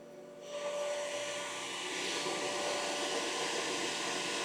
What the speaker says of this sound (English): the air purifier is doing a fantastic job